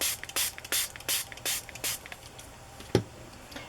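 Homemade colored dye spray misted from a spray bottle onto copy paper, a quick series of about ten short hissing spritzes in uneven rhythm, close and fairly loud, followed by a single soft knock.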